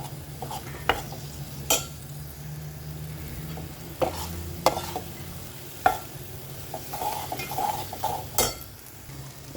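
Chili powder masala sautés in oil for a sardine curry, stirred with a spoon: a low steady sizzle under sharp, irregular clinks and scrapes of the spoon on the pan, close up and with no talking.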